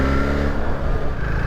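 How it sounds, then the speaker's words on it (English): A BMW R1300GSA motorcycle on its stock exhaust revs and settles into overrun, a loud, rich, low engine burble held for a moment close by with no voices over it. "The stock exhaust actually sounds good as well. It's got quite a nice little overrun on it."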